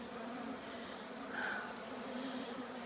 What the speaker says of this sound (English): You can see the bees are climbing up.